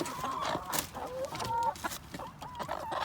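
Chickens cluck softly and repeatedly at close range while pecking at crawfish and French fries at a food truck festival, making short murmuring calls in an uneven rhythm.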